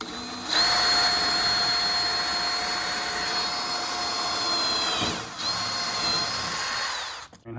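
A power drill runs at high speed, boring into a part during a Toyota Tundra cold air intake install, with a steady whine that briefly dips mid-run before it winds down.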